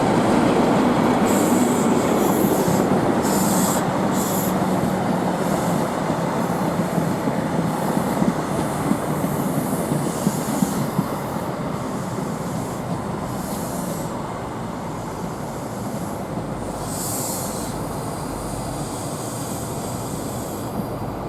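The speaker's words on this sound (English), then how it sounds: "Heading into platform 3B is a Class 43 HST in East Midlands Trains livery." A Class 43 HST in East Midlands Trains livery pulls into a station platform, a steady loud rumble of wheels and carriages with squealing brakes and rail clatter throughout, no talk.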